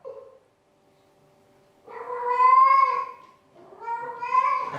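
A man imitates a cat in heat with two drawn-out, wavering yowls, rising and falling, close and clear after a short sound and a quiet pause.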